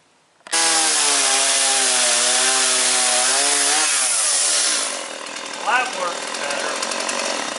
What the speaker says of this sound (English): We're going to try to use it in a chainsaw to help us cut this out a little bit.